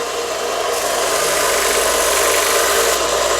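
A wooden rosary cross being smoothed by hand, giving a steady, close, loud rasping rub that runs unbroken from start to finish with no voices.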